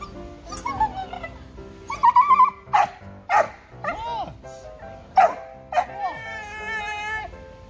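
At a park, a dog gives a run of strange, high, warbling whines and yips, some rising and falling in pitch and others short and sharp, close and fairly loud.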